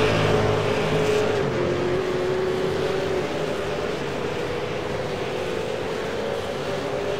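A V8 Supercar racing car at Watkins Glen drives at about 270 km/h toward the bus stop corner, its loud engine a continuous roaring drone that eases slightly midway.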